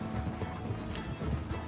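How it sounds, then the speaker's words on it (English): Horse hooves clip-clopping toward the listener in Red Dead Redemption 2, a steady run of hoofbeats with a faint whinny, fairly close over a continuous outdoor background. "Make sure to call my horse over."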